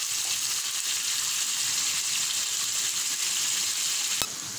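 Raw mango pieces and spices stir-frying in a pan for a sweet pickle, a steady loud broadband sizzle throughout with one brief sharp knock near the end, close up and without talk.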